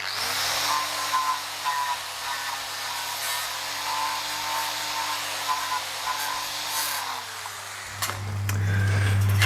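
A face-off disc on a power tool grinds rust off metal while building a custom car firewall, a steady loud whirring hum that holds for about eight seconds, then drops in pitch as it winds down.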